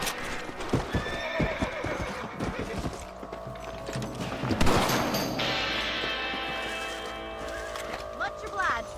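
Horses in the video game Red Dead Redemption clip-clop along steadily, with a whinny, a brief burst of distant gunfire and background game sounds mixed in; a voice speaks over them.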